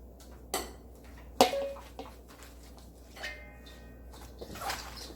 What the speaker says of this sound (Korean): 양념을 넣어서 버무려 줄게요.